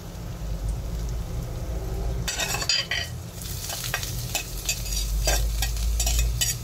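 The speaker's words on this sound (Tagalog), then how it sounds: "madalas pinagsasabay ko yung sibuyas at saka yung bawang" Onion and garlic sautéing together in a pan for pancit bihon, a constant crackling sizzle that turns busier after a moment, with spatula stirring scrapes and a low steady rumble underneath, close up.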